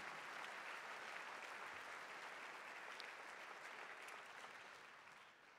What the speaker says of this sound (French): on peut applaudir aussi toutes les équipes qui ont travaillé autour de cette année olympique